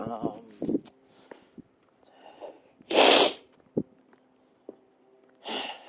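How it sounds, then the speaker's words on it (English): A single loud, wet nose blow bursts out mid-clip amid short breaths and sniffs, with a second shorter blow near the end; no speech. "I hate having to blow my nose like that"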